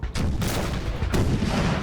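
Cannons fire at a wall in an American Civil War video game battle, two heavy booming volleys with dense overlapping blasts and rumbling reverberation, loud and close.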